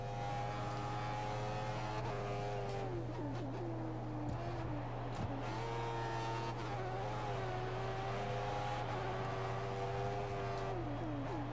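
A steady, loud F1 car engine in a racing video game drones throughout at full revs, its pitch sliding up and down as it revs, with a constant low hum underneath.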